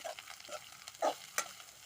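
Soft sizzling of chopped yam flowers frying in a pan with mustard seeds and onion, with a few sharper scraping clicks from stirring, fairly quiet and close, no voices.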